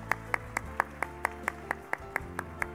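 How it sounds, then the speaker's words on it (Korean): Hands clap in a steady, evenly spaced rhythm at a Korean Statistics Day ceremony, about a dozen distinct claps over a low room murmur. "여러분 감사의 박수 부탁드리겠습니다."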